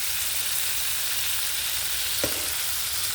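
Beef neck bones fry in a pan with a steady, dense sizzle throughout, close and even, with a brief scrape or stir partway through and no voices.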